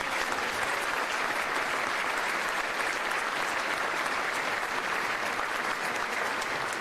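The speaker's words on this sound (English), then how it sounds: "a round of applause to our Bexar County State Delegation led by Speaker Joe Strauss" Sustained, dense applause from a large audience at a civic gathering in San Antonio for the Bexar County State Delegation, steady and loud throughout with no break.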